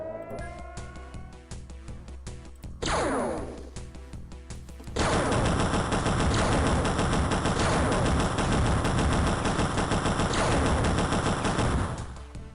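Rapid automatic gunfire and missile launches from an XCOM video game as an interceptor shoots down a craft, a dense continuous barrage that swells loud and sustained after a brief whooshing launch, with no talk over it.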